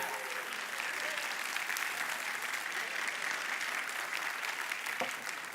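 Congregation applauding a drummer after a church service performance, a steady, fairly soft wash of clapping from many hands that continues evenly throughout with a single sharper clap near the end.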